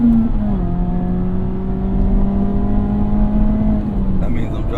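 A Mazda Miata ND3 on winter tires holds a steady engine drone under acceleration with traction control cutting in, the pitch sliding down and then holding at a sustained level before easing off near the end.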